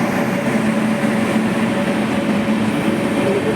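A train rolls through a railway station in a steady, loud rumble, a constant drone of wheels and carriages with a faint hum of machinery running underneath, close by and unbroken.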